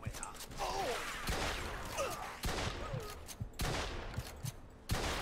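Shotgun blasts boom in the Mafia II video game, several sharp, heavy shots spaced about a second apart amid crackling gunfire, with a player talking over the action.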